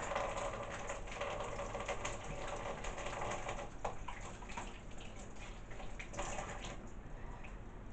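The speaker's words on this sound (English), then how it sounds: "I'm just going to quickly wash my hands" Water runs steadily at a kitchen sink while hands are washed, a soft continuous splashing hiss with faint clinks, quiet and close.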